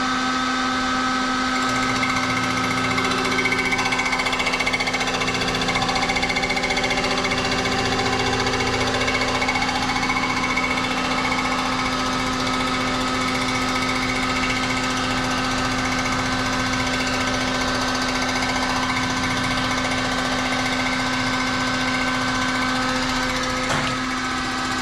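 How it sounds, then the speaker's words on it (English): A Ford 302 engine block deck being skimmed flat on a milling machine gives a steady, loud mechanical whine with a constant tone that runs without a break throughout. "then we'll skim this deck down so it's the same height as this"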